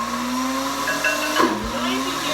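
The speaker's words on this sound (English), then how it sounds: "The noise you hear in the background is our blender." A kitchen blender whirs steadily in the background, a constant droning hum with a faint whine that holds level throughout, briefly joined by a small knock, with no one speaking.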